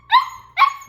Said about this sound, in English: he'll bark like this a lot